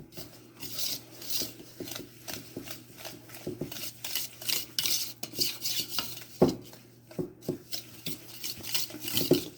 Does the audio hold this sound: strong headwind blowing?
no